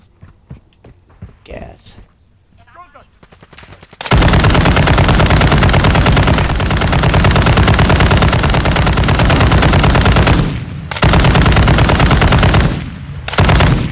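Rapid automatic gunfire in the zombie video game Dead Island 2 bursts in loudly after a few quiet seconds, a dense sustained rattle broken by two brief pauses, with voices talking underneath.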